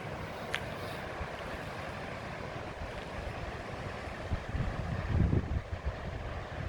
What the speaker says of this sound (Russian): Какой шум волн.